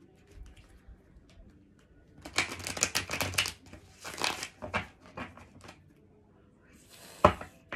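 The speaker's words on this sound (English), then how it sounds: "Let's give this a shuffle." Tarot cards riffled and shuffled in several quick crisp bursts, close up, with short pauses and a final snap.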